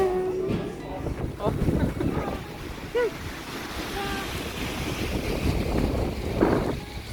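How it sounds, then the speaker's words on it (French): Strong wind buffets the microphone outdoors on a cold day in Brussels, a steady broadband roar throughout with brief voices and street sounds mixed in. "Ce vent de fou."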